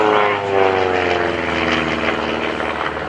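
A propeller aerobatic airplane engine, an RV at an airshow, drones loudly and steadily up close, its buzzing tone holding strong throughout with no one speaking.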